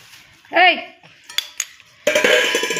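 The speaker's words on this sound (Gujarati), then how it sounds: "અહીંયા છે ને સ્ટેન્ડમાંથી વાસણ લઈને વેર વિખેર કરી નાખ્યા" Steel kitchen utensils clatter and clang loudly as a child scatters them from a rack, a burst of metallic crashes and ringing that follows a short vocal sound and a few isolated clinks.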